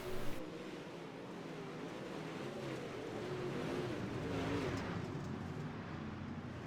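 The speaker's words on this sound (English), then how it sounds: "These four cars battling it out for the final transfer spot." UMP modified race cars roar around the Fairbury dirt track in a steady, continuous engine drone, several cars close together and fairly loud, with a slight swell in the middle of the pass.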